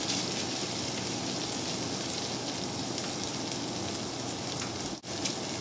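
Ratatouille vegetables cook in a pan on low heat, giving a steady, close sizzle that runs unbroken, with a momentary dip near the end.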